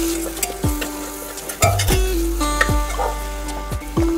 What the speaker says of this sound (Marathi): छोटे 2 चमचे आपण तयार करून घेतलेला मसाला टाकायचा आहे। मिक्स करून घ्यायचे आहे।